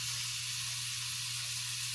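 Head-on shrimp for Jamaican pepper shrimp sizzling in a hot pot as liquid is added, giving a constant close hiss of frying and steam with a low steady hum beneath and no talking.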